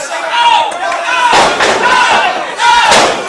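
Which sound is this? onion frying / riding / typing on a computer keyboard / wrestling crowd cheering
wrestling crowd cheering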